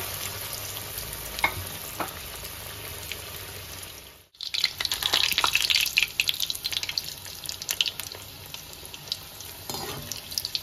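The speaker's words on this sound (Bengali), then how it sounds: "এবার আমি বলগুলোকে ফ্রাই করে নেব" Egg balls deep-frying in hot white oil, a constant close sizzle that swells suddenly into a louder, crackling bubbling as they drop in, then keeps frying steadily.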